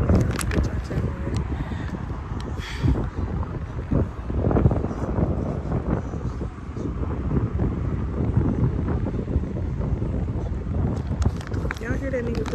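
Gusty wind buffets the microphone with a constant rumbling roar while people talk throughout.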